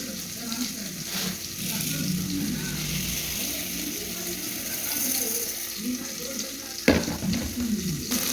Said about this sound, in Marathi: इकडे तांदूळ घेतलेला आहे मी निवडून आता तो एका भांड्यामध्ये मी धुवून घेणार आहे